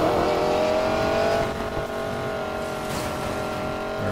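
A 1965 Ford Mustang tears through a race in the video game Need for Speed Payback, its engine a loud, steady, high-revving roar with a whining harmonic tone that dips slightly partway through, with no talking.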